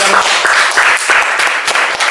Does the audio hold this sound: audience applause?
yes